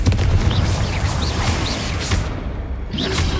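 A Confringo explosive spell blast in Hogwarts Legacy, heard as a loud, continuous rumbling boom with bursts and whooshing magical effects over dense game noise.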